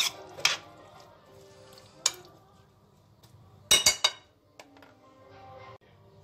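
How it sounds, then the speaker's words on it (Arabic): A utensil stirs chopped onion, tomato and bell pepper in a baking tray, producing sparse, sharp metallic clinks and scrapes up close, including a quick cluster of knocks, separated by quiet gaps. "هبتدي بقى نقلب كل الكلام ده كده كويس في بعضه"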